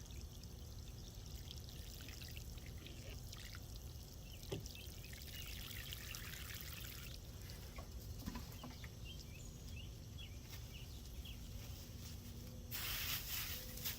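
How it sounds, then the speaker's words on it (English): Water pours from a running garden hose onto tomato plants, a soft steady splashing stream heard faintly with occasional birdsong in the background and a louder burst of spray near the end. "So I'll probably water these some more."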